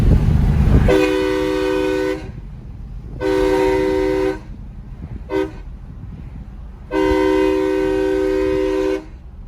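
A loud multi-tone train horn mounted on a truck blasts four times, three long blasts and one short toot, over the low rumble of the moving truck.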